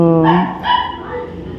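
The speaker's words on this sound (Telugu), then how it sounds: "ఇక్కడ బయట మా కుక్క పిల్ల అరుస్తుంది" A puppy gives a couple of high, yelping barks nearby, short and whiny, with a brief pause between them.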